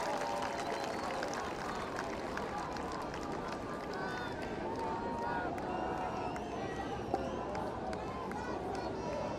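Rugby stadium crowd on their feet at the Roses 2018 varsity event, a dense, continuous roar of cheering and shouting with scattered claps, steady throughout under an announcer's commentary.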